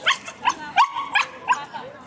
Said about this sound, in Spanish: miren todos esos perritos que andan por allí